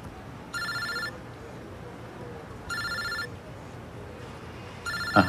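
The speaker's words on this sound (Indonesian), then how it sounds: "Silahkan diangkat dulu teleponnya." A telephone rings in a doctor's office in three evenly spaced bursts of bright electronic trilling over a quiet room hum. A brief thump comes at the end.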